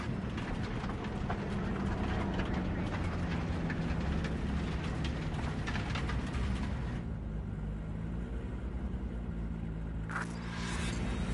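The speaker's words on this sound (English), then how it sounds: "If you like it so much, maybe we should just hijack the train." A train in Cyberpunk 2077 rumbles steadily nearby, a continuous heavy rolling drone with faint clatter, easing off toward the end before a brief higher whine.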